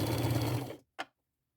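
A sewing machine runs a straight stitch on fabric in a steady close whirring burst, stops, then gives one brief extra stitch, with no voice over it.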